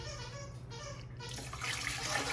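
White distilled vinegar at 5% acidity is poured into a pot for bread and butter pickle brine, giving a steady liquid splashing and gurgling stream that grows slightly louder and brighter near the end, with no talking.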